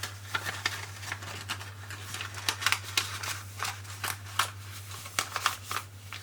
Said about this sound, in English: fold the wider end and place the narrower end into the wider end, and again, tightly crease the fold